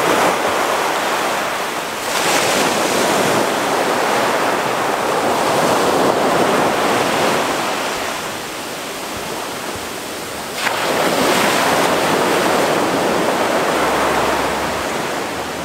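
Ocean waves on Chaweng Beach, Koh Samui, Thailand, a near, loud continuous surf wash with a few swells rolling in and receding over about fifteen seconds, no talk.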